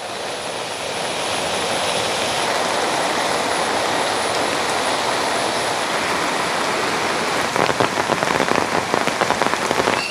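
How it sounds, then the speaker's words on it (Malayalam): Heavy rain pours down outdoors in a dense, steady hiss of countless drops striking surfaces, unbroken and loud, with a brief patter of closer drops near the end. "നല്ല മഴ."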